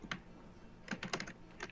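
Faint computer keyboard clicks while playing Plants vs. Zombies: a single tap, then a quick cluster of several keystrokes and one more near the end, quiet and close with no talking.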